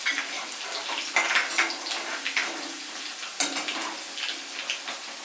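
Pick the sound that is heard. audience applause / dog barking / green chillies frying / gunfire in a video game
green chillies frying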